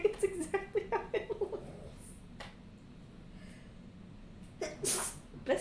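A person sneezes loudly partway through, with quieter breathy sounds around it, during a tabletop role-playing game session as people talk before and after.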